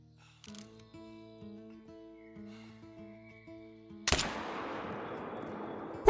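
A single loud .223 rifle shot fired at a fox in the Call of the Wild hunting game, cutting through a quiet tonal music bed and ringing out with a long, fading echo.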